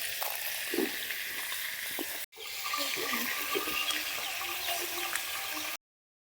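Mrigal fish frying in a pan sizzles steadily up close, with a brief dropout partway through, before the sound cuts to silence.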